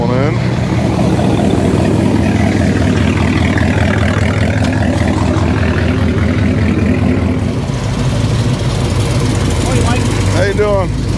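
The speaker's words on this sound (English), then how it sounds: "More cars rolling in." Cars roll in at an outdoor hi-performance swap meet and car show in Long Beach, their engines idling and rumbling steadily at close range while people talk over them.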